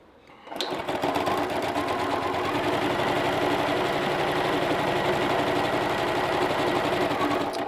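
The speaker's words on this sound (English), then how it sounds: "I might just try to stitch this" A sewing machine stitches a fabric seam, starting up after a brief quiet and then running steadily with a fast, even mechanical rattle close by for several seconds.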